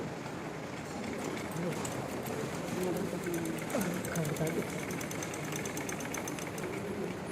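An electric sewing machine stitching a Panjabi dress runs with a steady, fast mechanical whir and rhythmic needle chatter, while a person talks over it throughout.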